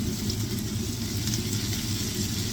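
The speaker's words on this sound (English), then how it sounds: "Cook the onions and mushrooms down a little bit slower." Onions and mushrooms cooking down slowly in a pan for beef stroganoff, producing a steady, moderate sizzle close by with no one talking.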